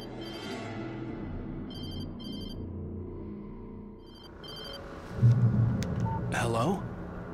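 A telephone rings in the video game Alan Wake Remastered: two short bursts of trilling electronic ringing over a low ambient rumble, then a heavier thud and rising noise.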